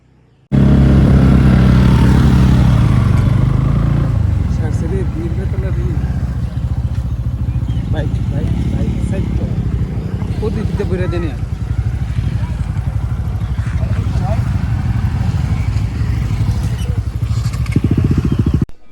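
A motorcycle is ridden along a road in Tripura, its engine a loud, steady drone with rumbling wind, and voices talk over it before the noise cuts off at the end.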